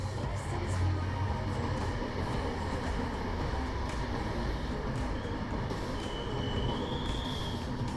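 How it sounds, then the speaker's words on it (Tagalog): An LRT train in Metro Manila rolls steadily along its rails, a continuous low rumble with a faint wheel squeal rising late in the ride, heard from inside the car with no talk. "Ngayon lang ako ulit nakasakay ng LRT train."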